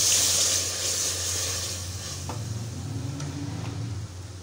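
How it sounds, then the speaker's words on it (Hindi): Water is poured into browned onions frying in a pan for a bagochiyoon curry, giving a steady hissing sizzle with faint stirring clicks that gradually softens. "अब इसमें हम पानी डालेंगे।"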